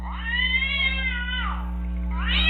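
Recorded cat meowing played back from a device, a long drawn-out meow followed by a second rising meow over a steady electrical hum, close and clear.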